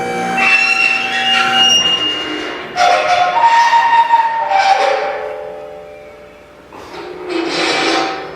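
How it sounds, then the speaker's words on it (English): A steel cable on a shop light squeals as the fixture is lowered in a welding shop, its dust-fouled pulley giving repeated loud rubbing squeaks and scrapes in bursts, with no talk. "The welding dust is making the cable squeal a little bit."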